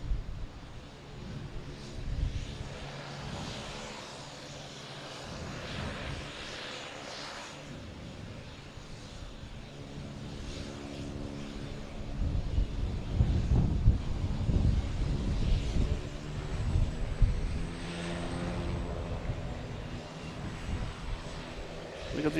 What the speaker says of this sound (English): I've got a Cape Air coming in from Saranac Lake.